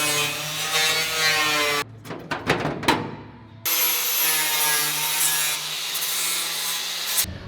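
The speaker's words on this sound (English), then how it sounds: "take a flap disc, hit it, smooth it out, good to go." A flap disc grinding a brace on an OBS Chevrolet C1500 work truck, loud and close, with a steady abrasive whine that breaks off for a couple of seconds of scraping and knocks before the grinding resumes.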